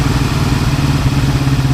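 A Honda CB450 K5 motorcycle's old twin engine runs steadily close by, giving a rapid even low thrum with a slight rattle and no voices.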